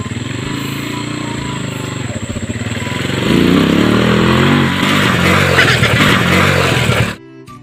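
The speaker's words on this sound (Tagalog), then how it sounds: "Sige, pandaran ng motor mo." A motorcycle engine idles, then revs up louder and stays strong as the bike pulls away, and the sound cuts off abruptly near the end.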